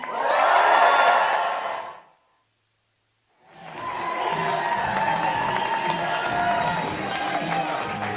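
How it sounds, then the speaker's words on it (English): A rally crowd in Hamilton, Ontario cheers and claps for Prime Minister Mark Carney, a roaring burst that cuts to silence for over a second, then resumes as sustained applause with shouts. "please join me in giving a huge round of applause to our Prime Minister, Mark Carney."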